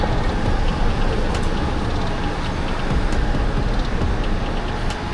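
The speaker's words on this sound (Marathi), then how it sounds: "ट्रेन पण निघाली आपली." A Mumbai local train pulls out of a station between Nerul and Belapur CBD, heard from inside a crowded coach as a steady, loud low rumble and rattle of wheels and carriage with no talk.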